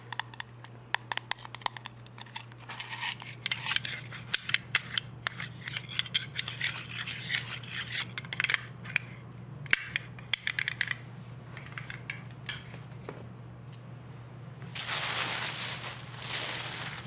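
Scissors cut through fabric laid out for a sewing pattern: quiet, crisp snips and clicks in an irregular rhythm, heard close up over a low steady hum, with a short burst of fabric rustling near the end.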